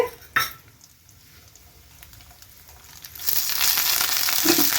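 Mustard seeds, urad dal and chana dal frying in hot oil for lemon rice: a faint crackle at first, then a sudden loud, steady sizzling hiss that swells and holds to the end.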